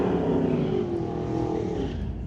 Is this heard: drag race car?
yes